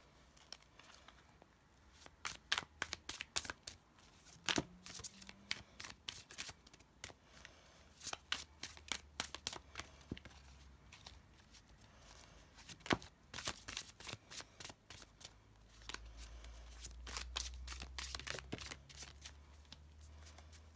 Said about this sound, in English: what I'm going to do is I'm going to shuffle the cards